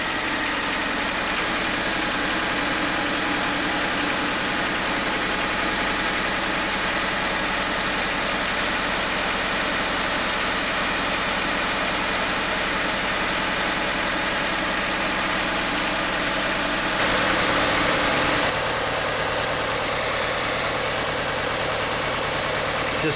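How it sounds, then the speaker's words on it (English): A Honda engine idles steadily after the vehicle is started, a continuous, even mid-pitched hum with vibration throughout and a slight change in tone near the end; no talking. "We'll turn the vehicle on."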